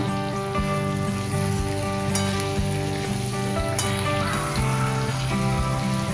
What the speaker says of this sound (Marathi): फ्लावर आणि बटाटा आणि हिरवे वाटाणे। 4-5 मिनिटं छान आपण परतून घेऊया याला।